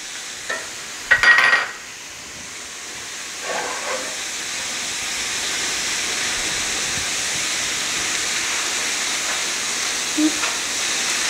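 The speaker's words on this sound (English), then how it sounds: "Just give this a stir." Cauliflower rice hisses and steams in a cast iron skillet, a soft continuous sizzle broken by a few sharp scraping clanks of stirring early on and a faint knock later.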